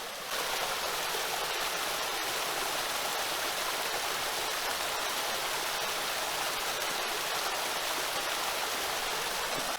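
A small waterfall pours over rocks at the headwaters of a tiny trout creek, a steady, close, full rushing roar with no break and no voices.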